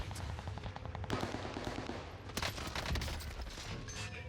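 Rapid bursts of automatic gunfire from STG-44 and MP-40 weapons in the video game Warzone Pacific, sharp overlapping shots in quick succession with a few louder cracks, fairly close and without talk.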